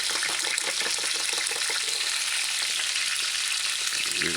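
A pot of chicken coconut stew being stirred, giving a continuous bubbling, hissing texture with soft scraping, fairly close and steady, without speech.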